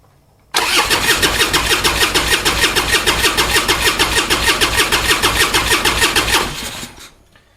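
A Harley-Davidson Twin Cam motorcycle engine cranks over on the starter, a loud, close, steady rhythmic chugging that begins abruptly and runs for about six seconds before winding down and stopping.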